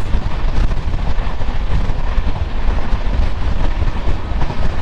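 The Radhikapur Express runs along the line near Radhikapur, India's last station before Bangladesh, a loud, steady, close rumble of wheels and carriages that fills the whole stretch.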